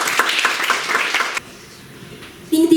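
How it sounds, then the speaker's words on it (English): An audience at a school public speaking contest for secondary students applauds, a short burst of dense clapping that cuts off abruptly, followed by a quiet pause and then a brief sound of talk. "So a great applause for Sofía González Barros,"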